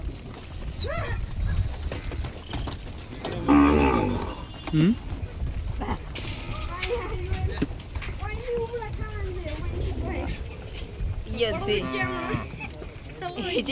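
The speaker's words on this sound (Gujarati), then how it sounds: "અલ્યા ઓલી શંકર ગાય ક્યાંથી આવી રહી?" A cow gives a short low moo among farm cattle being fed watermelons, heard once near the middle while several people keep talking loudly over lively outdoor background noise.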